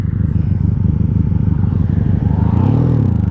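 A Kawasaki motorcycle passes by, its engine swelling near the end over the steady low rumble of another motorcycle being ridden.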